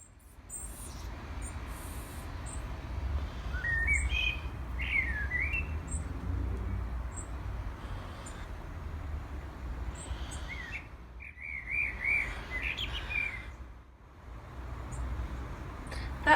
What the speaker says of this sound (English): That high-pitched sound in the background, a bit like cicadas, was the sound of the babies in their nest.